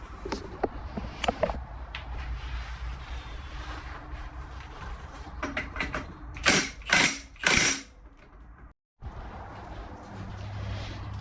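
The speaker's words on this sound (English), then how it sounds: "Impact gun has loosened that off now." A battery impact gun loosens the clutch nut on a Suzuki RM250 motorcycle in a workshop, giving several loud, close rattling bursts in quick succession among clicks and handling noises, then a brief drop to silence.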